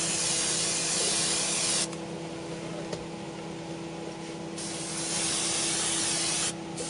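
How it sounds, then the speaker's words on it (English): Liquitex protective coating sprayed from a 360 spray bottle onto painted tabletop wargame terrain. A steady, close hiss runs in two long bursts with a short pause between them, and no voices. "this gives you a nice wide spray of these 360s, so it covers everything real fast"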